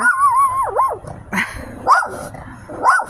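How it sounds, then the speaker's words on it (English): A dog barks and yips several times nearby, with a whining, high-pitched whimper between the barks. "She's barking at my neighbor is all."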